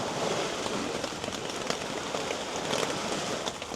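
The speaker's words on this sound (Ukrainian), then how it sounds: "Сидиш отак, на вулиці дощ. Ну як дощ, ливень, гроза, а ти в палатці" Heavy thunderstorm rain pelting a tent beside a reservoir, a dense, steady hiss and patter of drops close overhead, continuous and loud with no voices.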